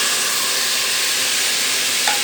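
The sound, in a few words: masala being fried and stirred in pan for aloo gosht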